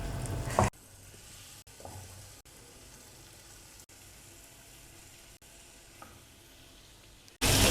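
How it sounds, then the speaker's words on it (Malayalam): Fish fries in a heavy pan for fish biryani, a steady, even sizzle held at moderate loudness, with a few brief clatters at the start and end. "നമ്മുടെ ഫിഷൊക്കെ നമുക്ക് ഇതിലേക്ക് ആക്കി കൊടുക്കാം."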